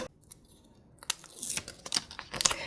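A paper surprise packet is torn open and crinkled, with quiet rustles at first, then a burst of close, crisp tearing and crumpling that grows busier toward the end.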